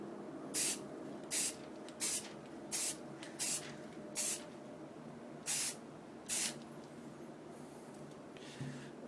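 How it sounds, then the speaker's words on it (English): Short hissing bursts of Rust-Oleum aerosol spray primer repeat at irregular intervals, about eight of them, over a low steady background hum. "as you're spraying, always stir it a little bit more"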